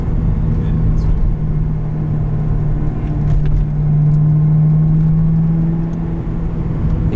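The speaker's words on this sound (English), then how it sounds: "You can hear the supercharger better from the inside too." Steady engine rumble with a sustained whine from the supercharger of a 2010 Corvette ZR1, heard from inside the cabin while driving, a continuous drone that swells slightly midway and carries no talk.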